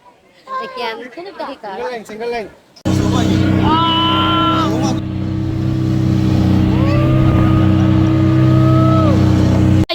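A boat engine drones steadily and loudly close by during a ride to an island, a constant low hum with children and adults talking and calling over it; talk is heard alone before the engine starts.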